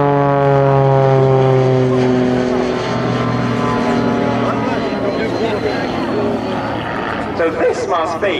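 A Jet Pitts S2S aerobatic aircraft flies a demo at an airshow, a loud droning engine with a steady harmonic whine that slides downward in pitch as it passes, fading slightly near the end.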